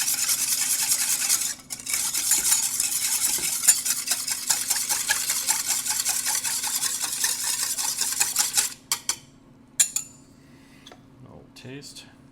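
A spoon stirs a sweet and sour sauce mixture with sugar in a bowl, giving steady, close scraping and swishing strokes for most of the clip before tapering into a few sparse clinks near the end.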